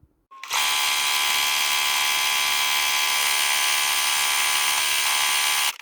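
A sewing machine runs without pause, stitching along a fabric neck warmer in one steady, close, high-pitched motor whir lasting several seconds.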